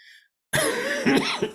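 A single cough from a speaker at a meeting, with a short throat-clearing burst near the end, loud and close after a brief pause.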